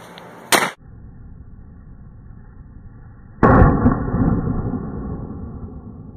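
A Defenzia M09 flashbang detonates outdoors during a SWAT demonstration: a sharp, loud bang followed by a long rumbling decay, preceded by an earlier brief pop, with no talk.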